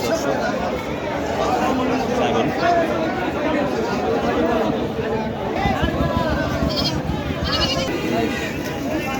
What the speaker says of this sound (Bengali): সুন্দর ছাগল